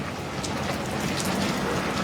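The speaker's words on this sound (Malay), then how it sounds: "Hujan sekejap lah, hujan kena ni sekejap" Steady rain falls continuously, a dense even hiss of drops hitting surfaces close by, with no voices over it.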